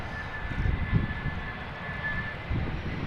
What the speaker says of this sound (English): Now touching down, a little wobbly after 6 hours and 17 minutes of flight.